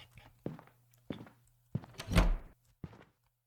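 A door shuts in the horror game Go To Bed, with several soft thuds and footstep-like knocks followed by a louder, heavier closing thump and a final light knock, in a quiet, hushed room.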